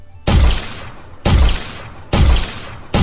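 Explosions from shooting a target in an Unreal Engine FPS template game, heard as four sharp, loud blasts at roughly even intervals, each with a booming low attack that decays quickly.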